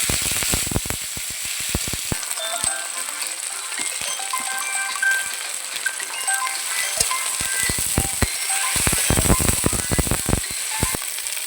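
Onions fry in oil with cumin, garlic and ginger paste, giving a steady close sizzle broken by sharp clicks and scrapes of a utensil against the pan, which bunch up near the start and again toward the end.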